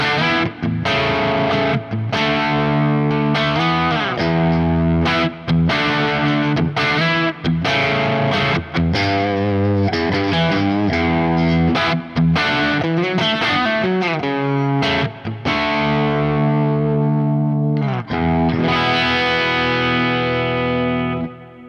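An Aria Pro II PE-F80 electric guitar with its parallel switch on plays through heavy distortion, loud chugging riffs and sustained chords with short rhythmic breaks, close and continuous with no talk.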